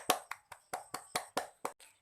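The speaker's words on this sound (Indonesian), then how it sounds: "Beri tepuk tangan untuk kita semua karena kita telah semangat di pagi hari ini" About nine separate claps in a quiet classroom at the start of a primary-school maths lesson, sharp and evenly spaced with a slight speeding-up, faint and close.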